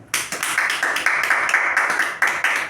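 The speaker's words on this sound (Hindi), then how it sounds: "अब इसके लिए एक जोरदार ताली।" An audience at an event gives a short burst of dense, lively clapping that stays loud and steady for under three seconds.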